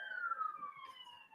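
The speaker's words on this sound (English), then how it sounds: "Sirens." Police sirens wail from a recording played back in a courtroom, a single rising-and-falling electronic tone that sounds fairly distant and thin, with no talk over it.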